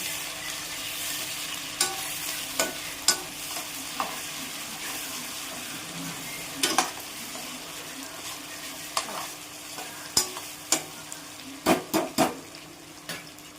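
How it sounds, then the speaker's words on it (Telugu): Ginger garlic paste, onions and green chillies fry in a pan with a steady close sizzle, while a spoon stirs with repeated scrapes and sharp clinks against the pan, growing more frequent toward the end; no one speaks. "అల్లం వెల్లిగడ్డ పేస్ట్, ఆనియన్స్ వేసుకోవాలి. ఇప్పుడు కలుపుకోవాలి."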